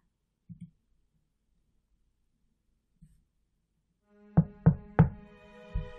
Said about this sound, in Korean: 창문을 두드리는 소리에 잠이 깼다